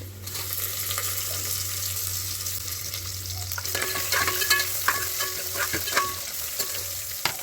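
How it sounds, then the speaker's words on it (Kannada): Spices for bisi bele bath, with dried red chillies and garlic, roast and sizzle in a hot pan, a steady close frying hiss with scraping stirs and clinks as they are turned. "ಇದು ಸ್ವಲ್ಪ ಚೆನ್ನಾಗಿ ರೋಸ್ಟ್ ಆಗಬೇಕು, ಅಲ್ಲಿವರೆಗೂ ರೋಸ್ಟ್ ಮಾಡ್ಕೊತೀನಿ."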